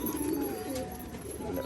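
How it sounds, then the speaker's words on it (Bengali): Young white Rajshahi pigeons coo in a low, throaty murmur, close by, over a constant background hiss of a busy room. "গোপাল ভাই, ওই যে সাদা যে বাচ্চা পায়রা দুটো এখন সেটিং করে তৈরি করা হয়েছে"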